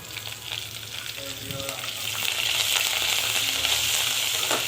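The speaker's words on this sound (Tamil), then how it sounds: "இந்த அளவுக்கு வதங்கினதுக்கப்புறமா கருவேப்பிலை ஆட் பண்ணிக்கலாம். இது கூடவே கொத்தமல்லியும் ஆட் பண்ணிக்கலாம்." Curry leaves and coriander sautéing in a hot pan for chutney, a steady close sizzle and crackle with faint stirring scrapes, growing slightly louder partway through, with no talking.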